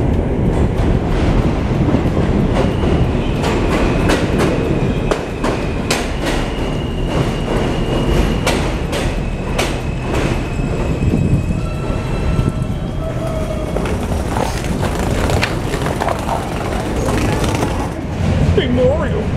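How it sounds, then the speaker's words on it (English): A subway train rumbles steadily along the rails with clattering wheels and occasional metallic squeals, with voices talking over the noise. "Is that the G train?"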